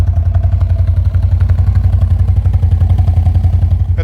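A 2025 CFMOTO XMR 850 mud quad settling into a loud, lumpy idle after a rev during break-in, its deep engine pulsing fast and steady up close.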